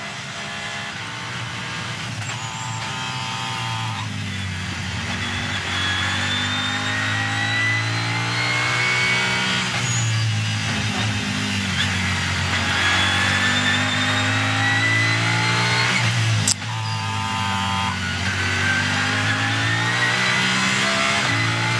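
Race cars at the 2019 Nürburgring 24 Hours scream past one after another, loud engines revving and shifting with rising and falling pitch, continuous and close throughout with no talk.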